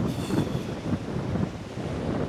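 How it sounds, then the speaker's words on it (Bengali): Strong wind buffets a river launch at night on the route from Bhola to Dhaka during a storm, a steady close roar of gusting air over the microphone with a wash of waves beneath, no talk. "হয়তো আপনারা বাতাসের শব্দ শুনতে পাচ্ছেন"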